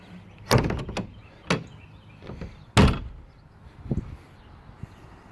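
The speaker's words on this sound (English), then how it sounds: "You kind of have to kick them shut at the bottom" Plastic Suncast 7x7 shed doors are kicked shut, giving several hollow bangs and rattling thuds, two sharp loud hits followed by softer knocks, close and alone.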